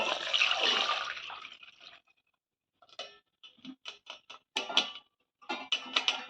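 Drained soaked ingredients for vegetable kola urundai are rinsed in fresh water: a loud close splash and pour, then a pause, followed by a series of short wet sloshes and squeezes in an uneven rhythm, with no talking.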